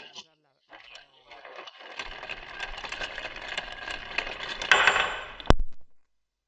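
Metal chuck jaws being changed on a lathe-type chuck, a run of rattling metallic clinks and scrapes that builds to a busier clatter and ends with one sharp metal knock.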